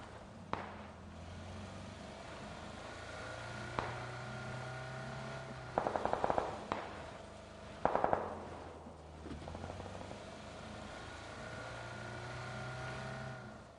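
Bursts of rapid gunfire in a video game, a few short volleys between single shots, over a steady engine drone.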